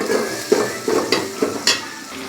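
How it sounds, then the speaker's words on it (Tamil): Finely chopped garlic fries in oil for a fish curry, a close sizzle punctuated by a steady series of about six spoon scrapes and stirs against the pan. "பூண்டு பொடி பொடியாக அரிஞ்சு வச்சுருக்குறேங்க. அதையும் எண்ணெயிலே போட்டு நல்லா செவத்தரை வந்து வணக்கிக்கணுங்க"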